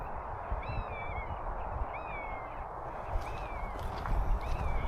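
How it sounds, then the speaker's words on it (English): A large bird calls from high in the treetops before flying off, giving repeated short descending cries at a distance over a steady rushing outdoor background on a countryside walk. "There's a bird that's at the top of one of these trees up there. There, it's flying off. It's been making noises for it."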